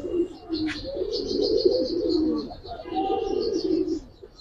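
A breeding pair of pigeons cooing close by, with long throaty rolling coos repeating in two bursts and a brief higher chirp near the start.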